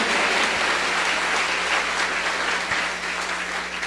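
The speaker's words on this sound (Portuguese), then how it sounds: "Se você crê, aplauda forte ao Rei dos Reis." A church congregation at an evangelical service claps loudly and continuously, a thick sustained roar of many hands close by with no pauses.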